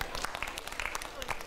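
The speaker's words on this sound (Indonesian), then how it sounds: "Tepuk tangan Bapak Ibu." A seated audience at a stress-management seminar claps briefly: quiet, scattered handclaps with voices murmuring underneath.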